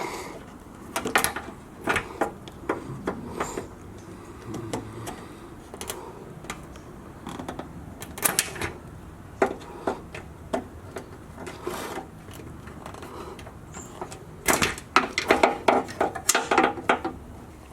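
Plastic mounting tabs being pried and pulled off a car during a light bar install, giving scattered sharp clicks, scrapes and knocks close up, with a dense cluster of snaps toward the end.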